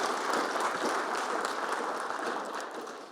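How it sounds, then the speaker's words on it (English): An audience at a university center launch event gives steady, moderately distant applause that fades slightly toward the end, with no talking. "Please give him a round of applause"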